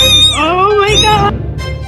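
A small kitten gives a loud, close, drawn-out meow with rising and falling pitch, followed by a shorter cry.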